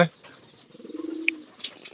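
Domestic pigeons in a loft give a low, throaty coo that swells and pulses for about half a second, with faint chirps and light rustling around it.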